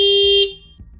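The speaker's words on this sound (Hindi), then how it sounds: "इतनी देर से हॉर्न बजा रही हूँ" A single loud car horn blast lasts about half a second at close range, then cuts off, leaving faint background noise.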